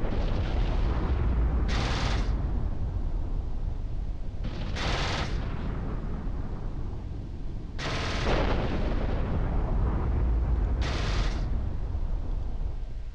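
Smart bombs detonate repeatedly in the EVE Online space game, four bright bursts at roughly three-second intervals over a constant loud rumbling roar of combat.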